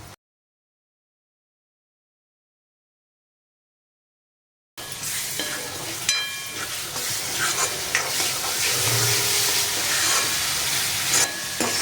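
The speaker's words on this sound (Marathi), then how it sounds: "मसाल्याला छान असं इथे परतून घ्यायचं आहे, म्हणजे टोमॅटो पण छान असे मिक्स होतात." Tomatoes and masala sauté and get stirred in a pan for dahi chicken, a steady broadband sizzle with scraping stir strokes running continuously from about five seconds in after near silence, close and fairly loud, no talking.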